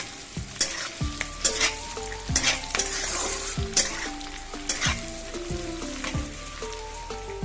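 Capsicum and onion fry in a pan with a steady, close sizzle, while a utensil stirs and scrapes through the vegetables in repeated strokes across the whole stretch.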